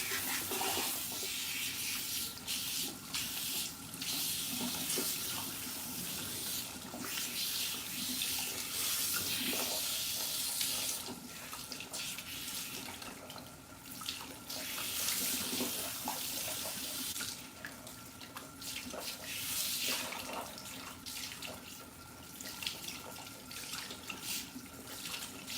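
Cold tap water runs steadily as hair is rinsed, a continuous close splashing and gushing that shifts in texture as the stream hits hair and sink, with no talking.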